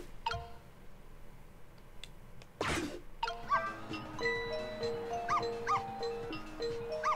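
A dog in the video game Ghost Trick yips and barks repeatedly, with a short noisy burst partway through, followed by a run of quick chirpy game sound effects, moderately loud and close, with no talk.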